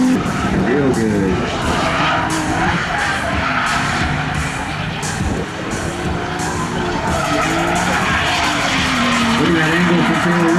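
A Nissan 370Z Nismo race car drifting on track, with continuous loud tire skidding and squealing over a revving engine, and voices talking over it throughout.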